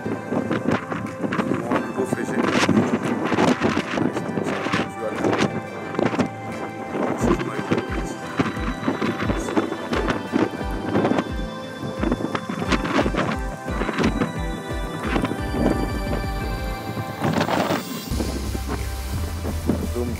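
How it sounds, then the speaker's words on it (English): Strong wind buffeting the microphone on a beach at a fishing point in Bahrain, loud gusty rumbles and roaring bursts throughout, with someone talking underneath. "Wind is really fast right here."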